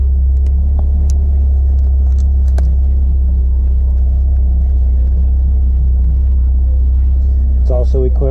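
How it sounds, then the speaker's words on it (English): A 1980 Fiat Spider with rebuilt suspension and driveline, on 15-inch wheels, drives along with a steady low engine and road rumble throughout, and someone talks over it. "The car drives like a new car."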